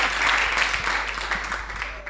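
An audience applauds Clémentine in a swimming-pool hall at Treichville's state pool during a live Ivorian radio sports show, the steady clapping filling the room at moderate volume and carrying on without a break.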